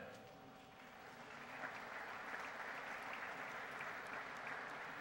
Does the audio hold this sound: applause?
yes